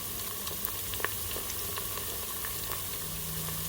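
Ginger slices and scallions frying in a pan for coconut curried chicken, giving a steady, even sizzle with faint scattered pops and crackles throughout.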